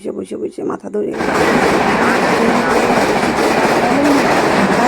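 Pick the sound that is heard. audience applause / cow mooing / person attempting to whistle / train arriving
train arriving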